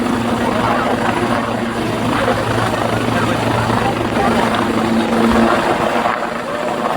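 Helicopter flying at a Hul Diwas event in Jharkhand, a loud steady rotor and engine drone with a sustained hum throughout, with a crowd murmuring beneath it.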